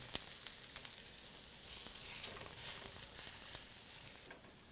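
Plantains fry in a hot pan with a steady, close crackling sizzle and scattered sharp pops, a bright hiss holding throughout with no talk over it.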